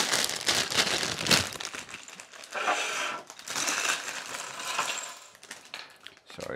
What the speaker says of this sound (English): while I just open up our bags of bits